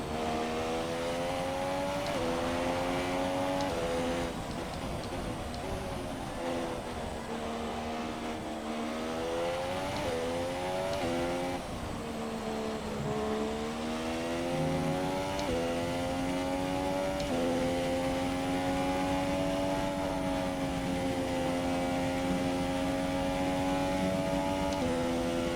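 An F1 race car engine at Spa in a video game, held at a high steady pitch near 11,000 RPM, droning continuously with gentle rises and dips through gear changes and corners.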